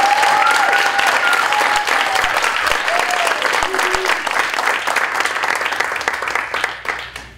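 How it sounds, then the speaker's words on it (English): Audience at a poetry reading applauding, a dense sustained round of clapping that fades out at the end, with a few voices calling out briefly over it. "a round of applause, please."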